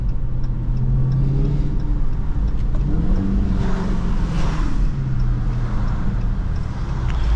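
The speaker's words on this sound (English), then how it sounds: "that truck sounded crazy. That one truck that went by had a little bit of exhaust done to it." A truck with a modified exhaust driving past on a wet road in rain, a steady engine rumble and tire hiss that swells and fades as it passes, heard from inside a car in traffic.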